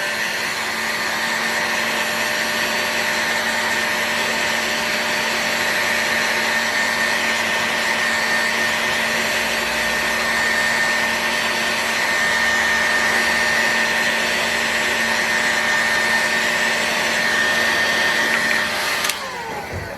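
A heat gun warms a skateboard wheel before bearings are pressed in, giving a steady, loud, even blowing roar that holds unchanged for about nineteen seconds, then cuts off abruptly at the end.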